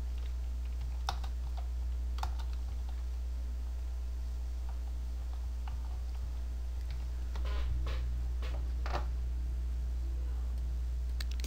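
Computer keyboard typing in scattered bursts of clicks over a steady low electrical hum, fairly quiet and close, with no talking.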